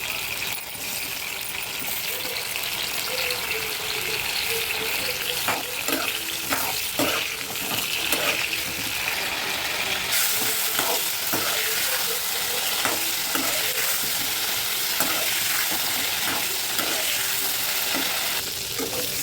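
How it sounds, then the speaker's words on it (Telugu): Eggplant pieces fry in hot oil with a dense, continuous sizzle, and close stirring scrapes and clicks punctuate it steadily throughout. "మనం ఇప్పుడు దీన్ని ఆయిల్ ఉంది కదా దూరగా వేయించుకోవాలి."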